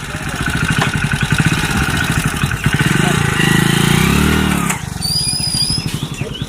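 A motorbike engine idles close by with a fast, even putter, revving up briefly before settling back.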